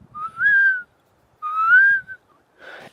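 Birds calling at night in Ashley National Forest give two drawn-out, rising whistled notes separated by a short pause, followed by a brief rougher call, clear and isolated against a quiet background.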